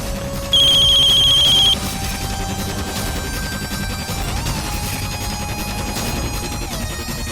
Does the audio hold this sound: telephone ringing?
yes